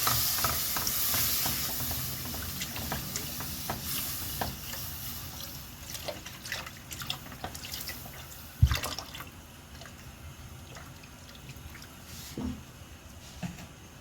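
A litre of milk poured onto cooked flour for béchamel and stirred in, with soft liquid sloshing and stirring scrapes, plus one sharp clink partway through.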